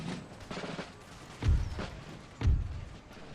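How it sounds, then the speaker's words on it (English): Cannon fire in the Empire: Total War strategy game, heard as two heavy low booms about a second apart amid steady rumbling battle noise, with fainter distant shots in between. "the cannons are ready to fire again"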